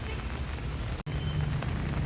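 Heavy rain falling on a natural farm field, a dense steady hiss of drops with a brief dropout near the middle, no voices.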